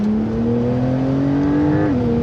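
Porsche 911 Turbo S (992) on a race track, a loud, sustained engine drone climbing steadily in pitch under acceleration, then dipping briefly near the end as it shifts, heard close with no voices.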